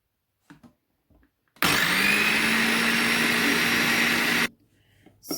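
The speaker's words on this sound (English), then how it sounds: "So I have seen people making whipped cream in the food processor." A food processor whipping heavy cream whirs loudly for about three seconds in a steady motor hum, with faint handling noises before and after.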